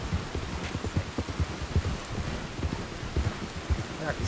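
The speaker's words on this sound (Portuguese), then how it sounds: "Ah, que esse temporal tá feio" Heavy rain with storm rumble in the video game Red Dead Redemption 2, a steady wash of downpour with low thumps and rumbles throughout, fairly close, with a faint voice briefly beneath.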